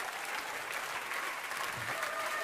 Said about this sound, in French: On peut les applaudir un peu plus, s'il vous plaît.